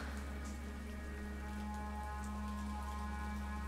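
A heavy rain downpour gives a steady, even hiss that never lets up, with a low constant hum beneath it and no voices.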